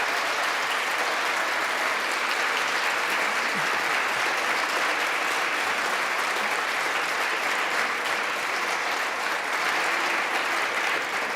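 Applause in the House of Representatives chamber on the opening day of Congress; a dense, continuous roar of clapping from a large crowd, loud and even throughout with no pause.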